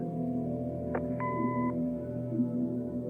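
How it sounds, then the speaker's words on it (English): Answering machine in the video game Kathy Rain gives a short electronic beep, a single clear tone standing out over a low steady hum, with no speech. "Leave a message after the beep."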